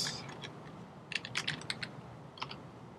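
Computer keyboard typing: a quick burst of light, close key clicks in an irregular run, then a brief pause and a few final taps over quiet room noise.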